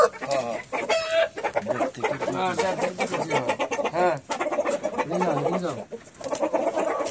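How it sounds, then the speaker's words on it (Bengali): Silkie chickens cluck and murmur nearby on a farm in short, overlapping bursts, with a voice speaking in between. "সোহাগ ভাই খামারে যে সিল্কি মুরগি।"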